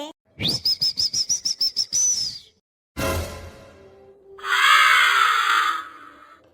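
A cartoon crow calls in a series of about nine rapid, evenly spaced squawks, followed by a pause, a whooshing burst, and a long, loud, wavering screech.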